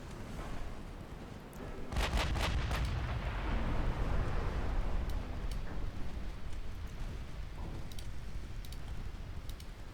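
Heavy naval gunfire in a warship combat game, with a deep booming salvo that lands with rumbling shell impacts, followed by sustained low roar and scattered sharp cracks from distant hits.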